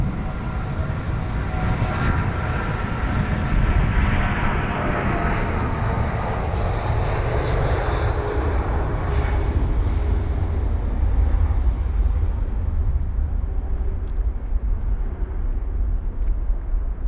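Jet aircraft engines roar on a runway at London Heathrow, a loud continuous rumble and whine that swells slightly and shifts as the aircraft moves, heard alone without voices.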